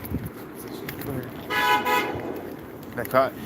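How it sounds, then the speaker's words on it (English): A car horn honks a couple of times at moderate distance, short toots over traffic noise and background voices. "That car honking is freaking him out."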